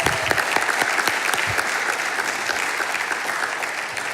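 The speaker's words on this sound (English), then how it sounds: "Let's give them all a round of applause." A crowd claps steadily, a dense, sustained round of applause with no voices rising above it.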